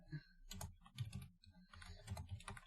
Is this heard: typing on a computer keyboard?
yes